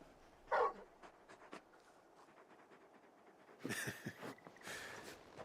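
A video game dog in Final Fantasy 16 pants in quick, soft breaths with a few faint whimpers, then louder bursts of breathy panting near the end.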